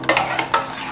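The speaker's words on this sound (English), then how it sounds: "Let's stir that up in the liquor right there" Food being stirred in liquid in a pot for a tomato-sauce dish, three quick close scraping strokes over a low steady background, all within a second.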